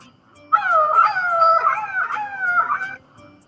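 A puppy whimpers and howls in a long, wavering, high-pitched whine that rises and falls for a few seconds, close and alone.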